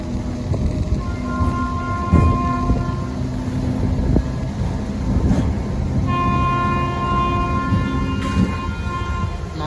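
A passenger train runs steadily on the Bhadrak–Puri line as the Nandankanan Express overtakes, loud continuous rumble and clatter with sustained horn tones sounding partway through.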